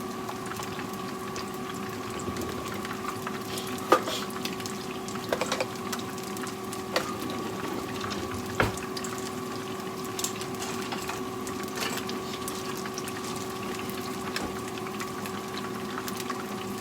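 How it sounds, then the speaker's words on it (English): An air fryer runs steadily in a kitchen, a continuous low hum and whir with faint bubbling texture and occasional small clicks, moderately quiet and unbroken throughout. "I'm sorry for the noise from my air fryer."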